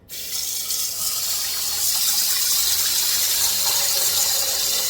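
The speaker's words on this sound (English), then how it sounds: "Now let's put our water in." Water gushes steadily from a tap into a soup pot holding a smoked turkey leg after a brief start, a continuous loud splashing pour that barely changes.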